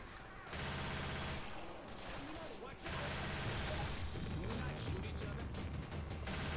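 Dense bursts of gunfire in Left 4 Dead 2, loud rapid volleys in several long stretches separated by brief lulls, with players talking over the shooting.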